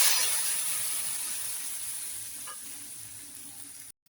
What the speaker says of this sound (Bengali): তো এইবার আমি এই আদা বাটা সব কিছু এর মধ্যে দেবো।